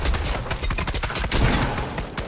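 Rapid bursts of Fortnite gunfire crackle in a dense, continuous volley, with no voices over the shooting.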